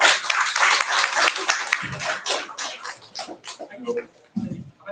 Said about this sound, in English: Please give a round of applause for our second speaker